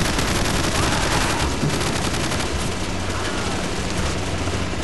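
Dense, continuous gunfire from Call of Duty Modern Warfare Reflex, a steady loud barrage of overlapping shots with no clear pauses across the whole stretch.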